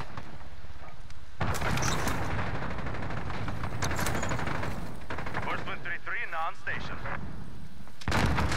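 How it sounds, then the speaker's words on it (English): Cruise missile strike in Call of Duty Hardpoint, a dense barrage of heavy booms and gunfire rumbling continuously for several seconds, loud and close, with game effects and a brief rising whine near the end. "Allied cruise missile launched"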